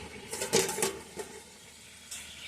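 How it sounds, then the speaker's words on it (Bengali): A metal lid is lifted off a cooking pot of Bengali chicken curry, producing a few close clinks and scrapes of metal on metal, followed by quieter faint rattles. "দেখো আমি ঢাকনাটা খুলছি।"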